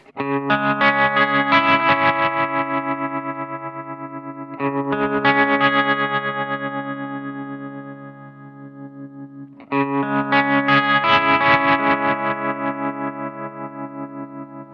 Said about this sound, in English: I can set the waveform switch to triangle wave and hear what that sounds like